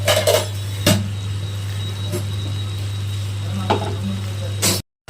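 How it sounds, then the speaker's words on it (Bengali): Paneer pieces go into a hot pan to fry: a few clinks of pan and utensil over a steady low sizzle, close up, with brief knocks as the pieces are stirred. "এখন পনিরগুলো দিয়ে দেবো।"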